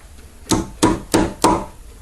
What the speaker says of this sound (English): Take your hammer and spread those little legs out.